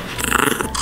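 A dog dressed in a bumblebee costume gives a short, close, throaty growl with snorting breaths, lasting under a second.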